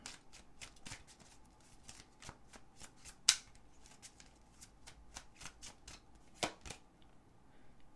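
Tarot cards are shuffled and pulled, producing close, rapid riffling flicks and soft slaps of card stock in an irregular rhythm, with one sharper snap partway through, quiet and with no talking.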